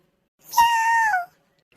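A cat gives a single clear, drawn-out meow at close range, rising and then falling away, with nothing else audible around it.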